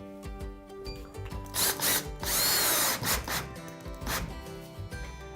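A power drill drives drywall screws into a sheet of drywall, heard as several short whirring bursts with one longer, louder run in the middle, close by and with no talking.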